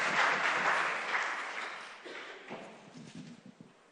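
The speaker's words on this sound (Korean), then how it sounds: "우리 목사님 나오실 때 큰 박수로 환영하고" A church congregation at a Wednesday evening service applauds to welcome the pastor, a loud burst of clapping that gradually thins and fades as individual claps trail off.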